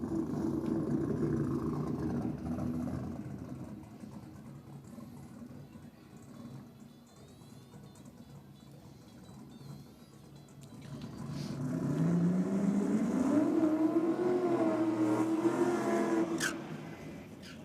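A nitro hot rod drag car moves through a tunnel, heard first as a loud engine roar. The roar fades to a lull, then swells again with a rising, whining pitch sweep before dropping off.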